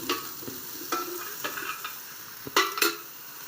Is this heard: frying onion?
yes